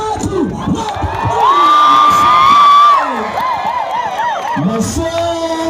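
A talent-search audience cheers and shouts to welcome a performer onstage, with a long sustained high ululation rising above the crowd, then rapid warbling trills and scattered whoops, loud and close.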